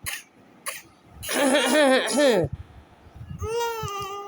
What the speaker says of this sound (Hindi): खांसी होने लग गई मेरी गुड़िया को?